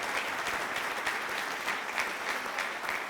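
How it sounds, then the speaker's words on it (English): An audience at a celebratory oath of office ceremony for a county legislator claps steadily, a fairly quiet, even patter of many hands sustained throughout with no voices on top. "Let's have a round of applause for them."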